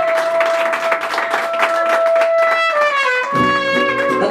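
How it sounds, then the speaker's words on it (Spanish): Applause and cheering rise at a birthday celebration with a youth mariachi band, clapping spread across the crowd while sustained tones continue and a deeper musical chord swells near the end. "Que le aplaudan."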